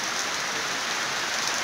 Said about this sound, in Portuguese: chuva sem parar